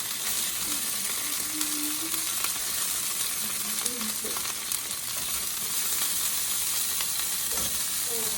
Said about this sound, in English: right now we're going to go ahead and add the oxtails into the broth pot